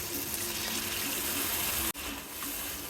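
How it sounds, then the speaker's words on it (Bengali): Water poured into a frying spice mixture with tomato paste and water spinach in a pan, a steady close pouring gush with a short break near the end. "মশলাটা যখন তেল ছেড়ে গেছে এখন দিয়ে দেবো সামান্য জল।"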